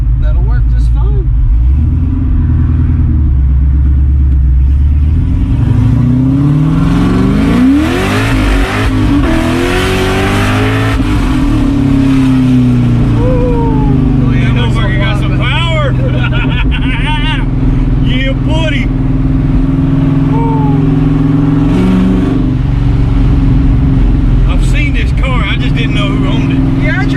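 A car on freshly installed Toyo Proxes R888R tires accelerates hard along an open highway, its engine rising and sweeping through the gears with a loud, sustained roar. Occupants talk over the engine noise inside the cabin.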